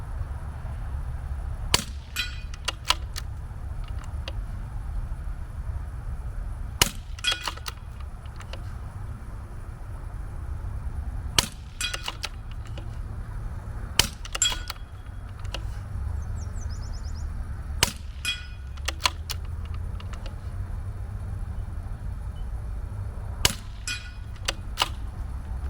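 Rifle shots fired off a tripod ring out as a series of sharp, widely spaced cracks, several with quick echoing tails, over a quiet outdoor background.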